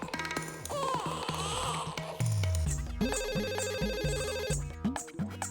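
A telephone rings repeatedly over a busy stretch of show music in a sitcom shop scene, an intercom call from a godown at an electronics store, with a steady recurring tonal pattern and little speech.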